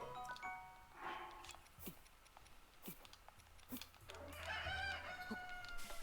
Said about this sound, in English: Oh, a rooster sound.